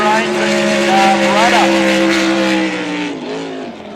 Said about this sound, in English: They even sound like a NASCAR, those 6-litre engines, as they scream down the main straight